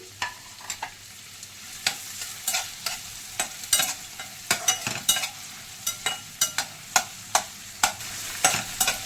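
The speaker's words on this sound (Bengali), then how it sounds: "ওর মধ্যে তেল দিয়ে দিয়েছি তেলও গরম হয়ে গেছে এবার এর মধ্যে দিয়ে দেব প্রথমে পেঁয়াজ কুচি" Chopped onion fries in hot oil in a frying pan, with a steady close sizzle under rapid, repeated scraping and clattering strokes of a spatula stirring it; no talking.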